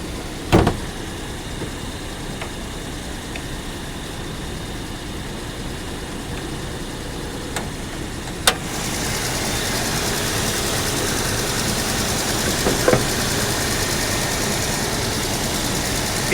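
A 2007 VW Passat engine idles steadily, low and even, with a few sharp clicks and knocks, growing slightly louder partway through.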